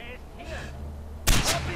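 A single sharp gunshot scoring a headshot in the video game Far Cry 4 cracks out loudly over a steady hum of game background sound.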